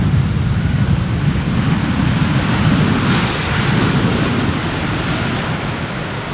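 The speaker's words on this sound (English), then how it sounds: "The reversers on the A330 working it like a treat." An Airbus A330 lands at Amsterdam Schiphol with its thrust reversers engaged, a loud, broad roar filling the air continuously with wind buffeting the microphone.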